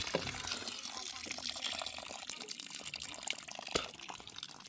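Well water pumped by hand pours and splashes steadily, a continuous close gush of flowing water with occasional drips and knocks, no talking.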